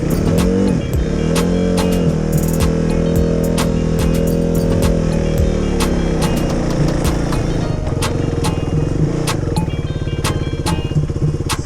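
A KTM Duke motorcycle engine runs steadily on a snowy ice track, a loud close droning rumble with rising and falling revs and sharp clicks throughout, no talking.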